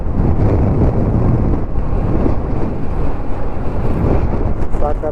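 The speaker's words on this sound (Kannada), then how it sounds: "ಗಾಳಿ ಅಂತೂ ಸರಿಯಾಗಿ ಹೊಡಿತಾ ಇದೆ." Strong wind buffets the microphone on a raised embankment road beside a large lake, a loud continuous low rumble with gusty swells throughout and no clear voices.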